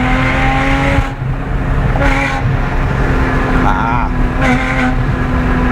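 A supercharged 4.1-liter engine in a 997 Porsche pulls hard at around 5,000 rpm on the street, a loud continuous droning roar with shifting tones, a voice speaking briefly over it.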